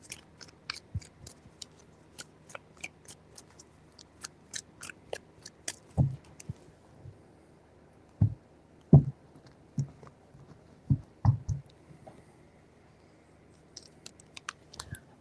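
Tarot cards being shuffled three times give crisp, irregular riffling snaps and soft flicks, close and fairly quiet, clustering into bursts with brief pauses between.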